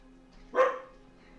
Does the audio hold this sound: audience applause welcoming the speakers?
no